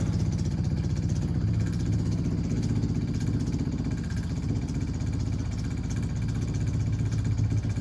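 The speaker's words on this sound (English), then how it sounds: "We're pumping now." A pump runs steadily beside a seized Ski-Doo Rev 550 snowmobile, giving a constant low mechanical whir with a fast pulsing rhythm, close and unchanging, with no speech.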